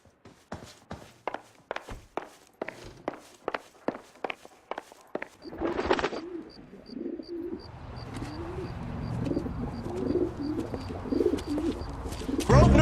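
A carrier pigeon in the L.A. Noire video game coos softly in low, murmuring phrases, following a run of quiet, regular footstep-like taps.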